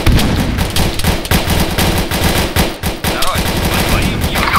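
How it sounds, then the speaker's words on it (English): Heavy automatic gunfire in the military game ARMA 3 rattles in loud, rapid bursts almost without pause, dense and close, with overlapping shots from several weapons. "We're getting shot at from the rear."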